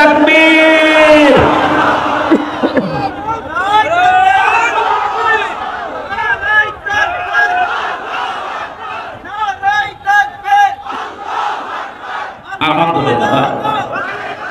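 A political rally crowd roars the takbir chant back in unison, a loud massed shout that swells and fades in waves, with a leader's voice calling out between responses.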